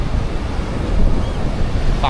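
Ocean waves wash up onto the beach at Malvan in a steady, loud roar mixed with wind buffeting the microphone, with no clear breaks between the surges.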